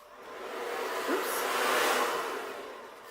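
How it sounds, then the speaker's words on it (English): A hair dryer runs steadily for about three seconds during an acrylic Dutch pour painting session, a close, broadband whoosh that swells slightly in the middle and eases off toward the end, with no voices. "Got the hairdryer under my arm and I turned it on."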